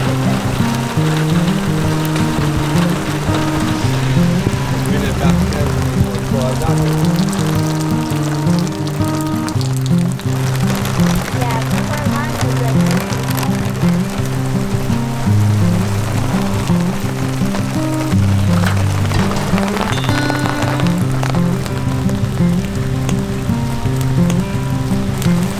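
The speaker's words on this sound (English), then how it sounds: "little rain's not a problem" Steady rain patters on surfaces at a campsite in central Oregon, a dense, continuous hiss of drops with no break, heard close and fairly loud.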